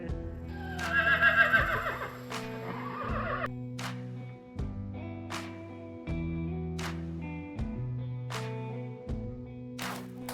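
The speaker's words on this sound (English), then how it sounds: "And Deadwood, tell that damn horse of yours to stop eating the hitching post" A horse in a video game gives a loud, close whinny that rises and falls, over a steady musical score with sharp percussive hits repeating through the rest of the passage.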